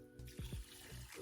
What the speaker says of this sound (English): Then we're gonna add in some water.